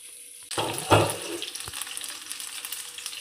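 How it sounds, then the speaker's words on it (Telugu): Salted eggplant pieces sizzle in hot oil in a pan for Indian curry. The frying hiss starts suddenly, then pops and crackles steadily close by. "ఇది బాగా మగ్గిపోవాలండి ఆయిల్లోనే"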